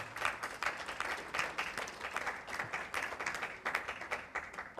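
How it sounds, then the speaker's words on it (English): An audience claps for a CEO being honoured at a business event, a steady patter of many hands at moderate level, slightly distant, with no talking over it. "Can you please give yourself a clap, please?"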